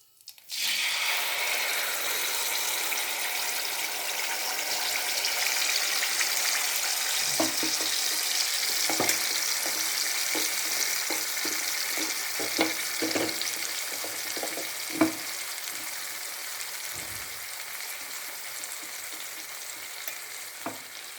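Tamarind cooks in hot oil in a pan: a strong, continuous sizzle starts suddenly and carries on, with irregular stirring scrapes and clicks added in the second half.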